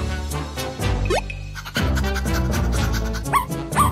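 A cartoon-style dog barks a few times over bright children's music, short yappy barks standing out against a bouncy backing track.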